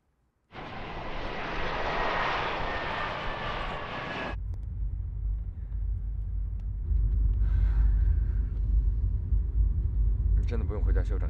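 Airplane engine noise during a flight: a loud, broad roar that starts suddenly, then drops abruptly to a steady, low cabin rumble that continues to the end.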